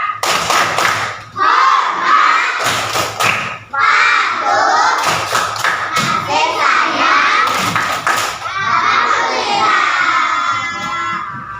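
A classroom of children does a rhythmic group clap chant honoring parents, with loud sharp claps in repeated patterns and shouted chanted words from the group, close and continuous throughout.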